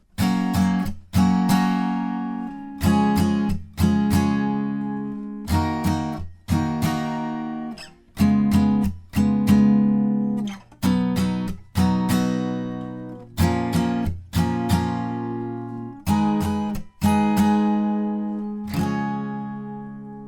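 Acoustic guitar strums a steady pattern of chords, each struck chord ringing out briefly before the next, clear and close with no voice.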